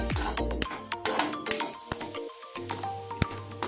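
Urad dal roasting in a pan while a metal spoon clinks and scrapes against it in sharp, irregular taps, with a faint sizzle underneath between the strikes.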